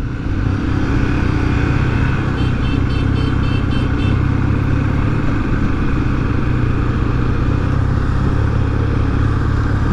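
A Honda XRE300 motorcycle engine rumbles loudly and continuously up close at a motorcycle festival in Olinda, a deep steady roar with brief revving surges partway through.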